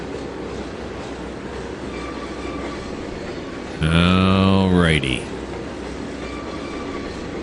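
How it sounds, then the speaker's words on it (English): A long train rolls along rails in the Trainz 2022 simulator on the UMR route, a continuous low rumble with a loud horn-like tonal blast rising for about a second midway; a voice briefly speaks over it. "This train's really long."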